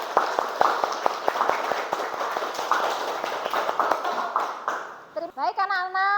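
Classroom of children doing a rhythmic patterned clapping game, quick regular claps in unison with chanting voices, ending as a teacher begins to speak.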